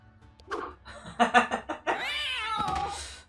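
A cat is thrown in the Guild of Dungeoneering video game, giving a loud yowling caterwaul and meows after a few quick thumps, close and alone with no talking.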